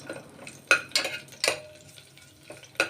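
Garlic frying in a pan for sambar rice, with a low sizzle under five or so sharp metal utensil clinks and scrapes at irregular intervals, close by.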